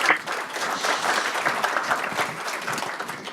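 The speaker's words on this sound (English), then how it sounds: "So round of applause." A crowd at a design and innovation challenge award announcement applauds an honorable mention winner, a dense, fairly loud burst of clapping lasting a few seconds.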